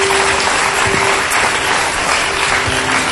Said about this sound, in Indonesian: Tepuk tangan lu dong buat dia.